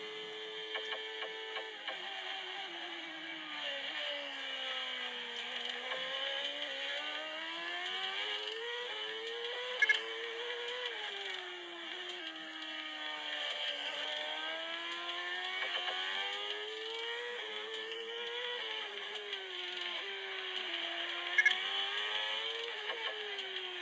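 Race car engines in a racing video game whine continuously, their synthetic pitch sweeping up and down with shifts, under a steady bright electronic hum and two brief clicks.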